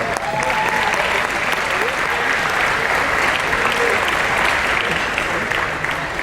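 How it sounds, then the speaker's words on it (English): A banquet crowd at a university athletic hall of fame dinner gives a sustained round of applause for the current student athletes, dense, even clapping with a few voices calling out over it. "Begin our ceremony tonight by giving our current student athletes a round of applause."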